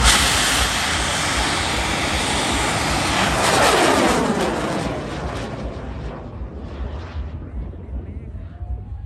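A bamboo rocket at a Lao Bun Bang Fai rocket festival roars loudly in a sustained rushing blast that swells and then fades as it climbs away, with crowd voices beneath.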